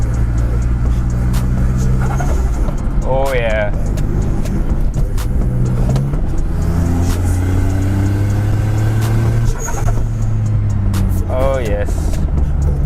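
Suzuki Alto K10 turbo car accelerating, its engine droning and rising in pitch with chirping turbo flutter on gear changes, heard from inside the cabin while an occupant speaks excitedly.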